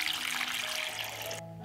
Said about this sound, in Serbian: U šerpu sipam vodu do visine poklopca.